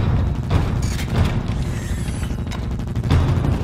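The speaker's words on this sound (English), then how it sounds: "Hallway, six men, shots fired." Gunfire erupts in a hallway in a Ghost in the Shell movie trailer, heavy booming shots and bursts clustered close together amid mechanical clatter, loud and punchy with no talking.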